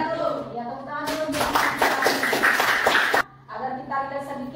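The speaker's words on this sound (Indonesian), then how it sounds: "Ya, tepuk tangan dulu." Audience clapping breaks out after a group presentation in a classroom, a dense burst of hands lasting about two seconds, with talk and harmonic voices before and after.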